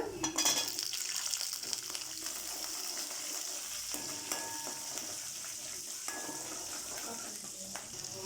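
Cumin, coriander, ginger and garlic sauté in a pan with a steady close sizzle and occasional stirring clinks, continuous throughout at moderate loudness.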